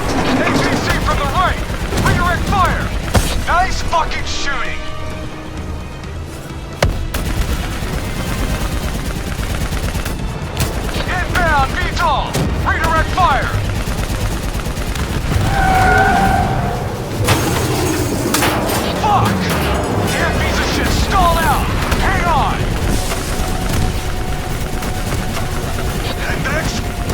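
Gunfire and explosions rage through a Call of Duty Black Ops 3 battle, with steady bursts and blasts roaring loud and continuous while soldiers shout over the din.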